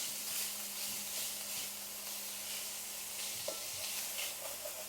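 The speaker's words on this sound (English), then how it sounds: "And now I'm going to add in our cod. And just want to give that a stir around." Cod being stirred in a hot frying pan, a steady close sizzle with occasional soft scraping and tapping of the spoon against the pan.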